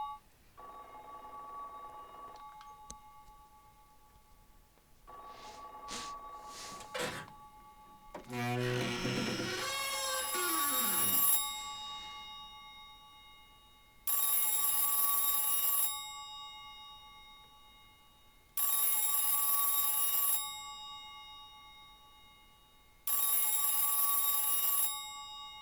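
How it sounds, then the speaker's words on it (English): A telephone rings in the Silent Hill 3 video game, sounding in long, loud bursts at steady intervals after a few brief beeps and tones. "Another goddamn phone!"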